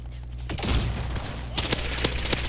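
Shotgun blasts in Call of Duty: Modern Warfare multiplayer on Xbox Series X, several sharp loud reports spaced irregularly over a dense backdrop of game noise and rumble.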